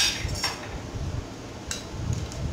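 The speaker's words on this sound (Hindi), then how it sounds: "अच्छी तरह से शेक कर रहे हैं इसे।" Vanilla ice cream mocktail being shaken in a cocktail shaker, giving irregular rattling clinks and sloshing bursts close by, with no talking.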